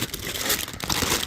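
A silicone baking mat is handled up close, giving off brief crinkly, rustling crackles in quick irregular bursts.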